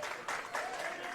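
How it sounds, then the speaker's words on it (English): A wrestling crowd at a Greektown Wrestling show cheers and applauds loudly, a dense wash of clapping and shouts that swells partway through the short burst. "The crowd's going crazy for this,"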